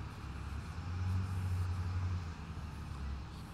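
A big bus passes close by on an outdoor street, making a steady low engine rumble with broadband road noise that swells and then holds for a few seconds. No voices are heard over it.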